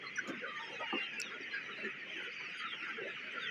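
A flock of hungry, not-yet-fed desi chickens on a farm clucks and chatters continuously at moderate distance, a busy overlapping murmur with no talking.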